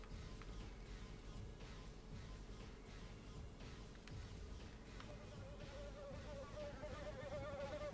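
Bees buzzing in TimeSplitters 2, a faint, continuous insect drone that sits low under other game sounds for several seconds.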